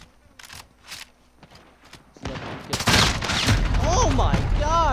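A 725 shotgun firing in Call of Duty Modern Warfare gun game: quiet sparse sounds at first, then a sudden loud burst of gunfire and booming impacts that stays dense to the end, with a voice talking over it.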